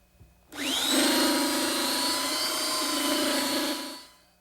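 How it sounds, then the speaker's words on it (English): A small handheld belt sander starts abruptly and runs at a steady, whining, gritty pitch for about three and a half seconds as it sands the wooden edges of a chair-table top, then winds down. "I like to use a slightly smaller belt sander to do these edges"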